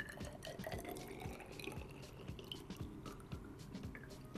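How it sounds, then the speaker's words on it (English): Water poured into an empty container makes soft trickles and splashing drips, fairly faint and irregular, with no talking. "I'm going to pour some water inside here"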